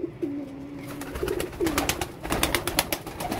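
Lalpari breed pigeons coo nearby, a low throaty call rising and falling against a busy background of faint chatter and clatter.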